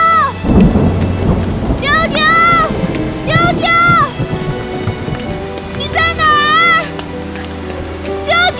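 A heavy rainstorm with rolling thunder, loud dense rain hiss with a deep thunder rumble near the start, while a voice calls out repeatedly over the downpour.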